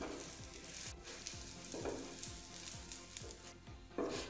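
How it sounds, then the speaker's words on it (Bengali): Bombay toast fries in a pan over low heat with a steady, close sizzle, broken by occasional soft scrapes and stirring sounds. No one speaks. "খুব হালকা হিটে ভাজবো।"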